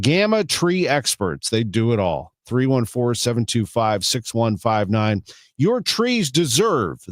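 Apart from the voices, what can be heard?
None of the usual background noises is heard.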